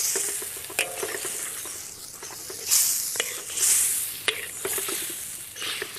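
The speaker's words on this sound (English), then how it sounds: "Keep adding the mutton, stirring the whole time to get the meat really covered with the yoghurt, onion and spices mixture" Mutton on the bone stirred into a yoghurt, onion and spice mixture in a hot pan, giving a steady sizzle with wet stirring scrapes and occasional sharper clinks of the spoon, close and moderately loud.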